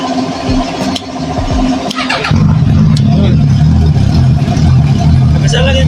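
A car engine cranks briefly and then catches after an overnight battery charge with the charger still connected, settling into a loud, close, steady idle.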